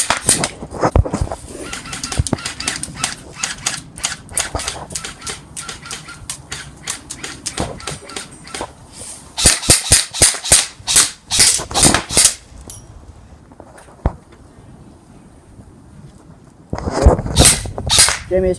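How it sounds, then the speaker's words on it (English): Airsoft guns firing during an outdoor game around a tent, with rapid bursts of sharp snapping shots and pellet impacts, some aimed at a ladder, coming in dense clusters separated by brief quieter gaps. "You guys are shooting a ladder."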